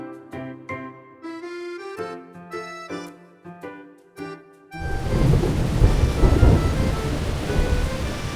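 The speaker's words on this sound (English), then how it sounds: "That sounded like thunder." Rolling thunder with rain in a video game, following a soft piano melody; the rumble swells in and stays steady and full over the last few seconds, with no talking.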